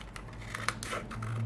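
Scissors snipping through paper to cut out a feather shape for handmade translucent paper, giving a few short crisp crunching cuts at close range with faint crinkling, no talking.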